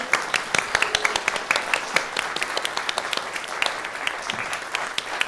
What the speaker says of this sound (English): Let's hear a large round of applause for our new members.